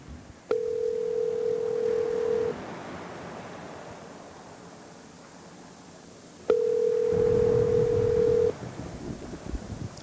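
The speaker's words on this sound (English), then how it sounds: "We'll call my grandmother." A telephone ringback tone heard while calling a grandmother sounds twice, each a steady two-second tone separated by a long gap, loud and close over a faint hiss.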